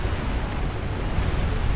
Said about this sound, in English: Nuke! Oh, at point blank range.